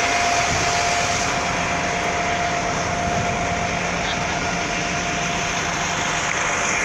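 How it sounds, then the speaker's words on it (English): An airplane passing overhead near a border checkpoint, a loud steady roaring jet drone that fills the whole stretch evenly without fading. "Look at that plane."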